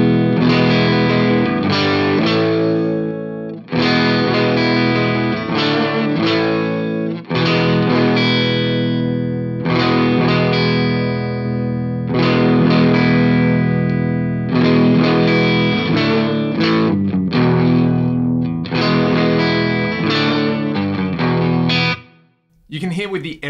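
Electric guitar played through a VS Audio Blackbird Deluxe Fender-style preamp pedal with the era switch down for a scooped tone. Loud, overdriven chords ring in bursts with short breaks between phrases and a brief drop near the end.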